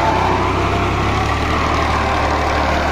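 A 1997 Escort 355 tractor with a 50-horsepower engine runs in first gear while ploughing a field, giving a steady, loud, low diesel drone throughout with no speech.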